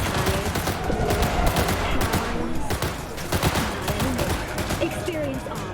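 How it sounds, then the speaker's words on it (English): Gunfire crackles in a Cyberpunk 2077 firefight, with dense, rapid bursts of shots and automatic fire close and loud, and game voices mixed into the din. "Exchanging fire!"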